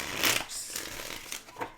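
A tarot card deck is shuffled in short papery riffles and rubs, moderately close, with soft handling noise between bursts and no talking.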